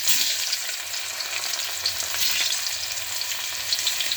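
Bitter gourds (karela), stuffed, frying in oil in a pan, a dense continuous sizzle and crackle with faint stirring, close and steady without any voices.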